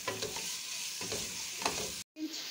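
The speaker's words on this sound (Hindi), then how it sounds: "बस 1-2 मिनट इसे हम भूनेंगे" Mutton liver fries in a pan with a steady close sizzle while a spatula scrapes through it in repeated strokes. The sound cuts out briefly near the end, then the sizzle resumes.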